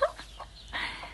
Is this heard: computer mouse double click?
no